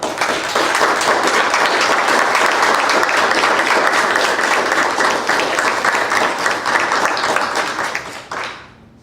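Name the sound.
round of applause at school board meeting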